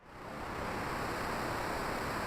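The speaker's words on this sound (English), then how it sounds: "Water! Here it comes!" Water rushes and gushes through a sewer in the Super Mario RPG video game, a steady broadband roar that swells quickly at the start and then holds loud and constant without speech.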